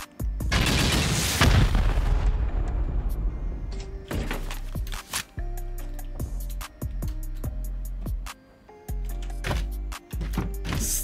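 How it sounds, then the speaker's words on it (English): Rockets in a raiding video game blasting out reinforced glass windows: a big rumbling boom at the start, then a string of sharp impacts and thuds in irregular rhythm, loud and close. "We're gonna send some rockets here."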